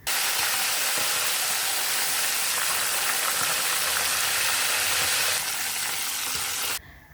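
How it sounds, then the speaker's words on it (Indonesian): Loud, dense sizzling and crackling of chicken frying in hot oil over high heat, a continuous bright hiss that cuts off abruptly near the end. "goreng ayam dalam minyak panas api besar"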